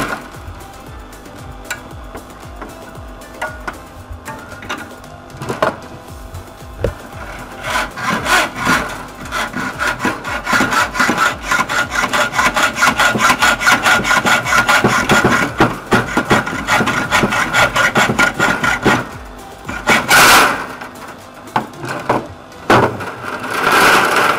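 A hand saw cuts through stock clamped in a vise while a folding crab trap is built. Rapid, rhythmic rasping strokes continue loud and close for over twenty seconds, with brief pauses.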